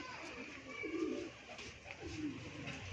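A yellow-eyed pigeon gives two soft, low coos against steady outdoor background noise, the calls moderately close and a little apart.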